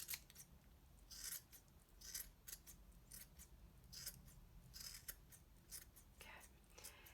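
Scissors snip repeatedly around the edge of a yarn pom-pom, giving quiet, close crisp cuts in an irregular rhythm, with soft talking faintly underneath.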